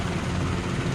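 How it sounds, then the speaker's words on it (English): Robinson R22 training helicopter in the CowanSim flight simulator, a steady engine and rotor drone, continuous and fairly loud, heard alone without talk. "R22 here is a training helicopter."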